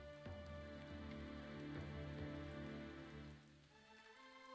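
Steady rain falling on a dark, cold night, a constant close hiss of drops with low droning tones underneath and no voices.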